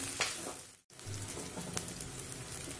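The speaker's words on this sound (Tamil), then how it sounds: "இது கூட ஒரு 10 பல் பூண்டு சேர்த்து வதக்கிக்கலாம்." Onions with about ten garlic cloves sautéing in a pan for a Tamil fish curry, giving a steady, moderately loud sizzle with small crackles and one brief cut to silence partway through.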